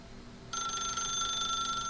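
Telephone ringing in the video game The Stanley Parable, a sharp electronic bell tone that starts abruptly after a half-second of quiet and continues steadily and loudly to the end.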